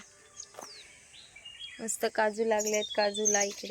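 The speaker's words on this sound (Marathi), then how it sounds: "पक्ष्यांचा मस्त किलबिलाट ऐकायला येतोय" Small birds chirp and tweet faintly among coconut trees in a Konkan village while a person talks over them nearby.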